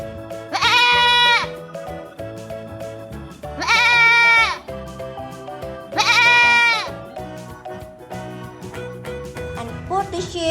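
A toy sheep bleats three times, each a loud, close electronic baa lasting about a second, spaced a couple of seconds apart over a faint jingly toy-music background.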